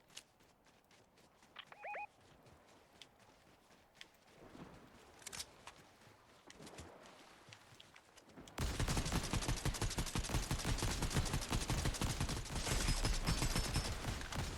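Gunfire in the video game Fortnite: a few quiet, scattered shots and clicks, then a sudden, loud, sustained barrage of rapid shots that runs to the end, with no talk.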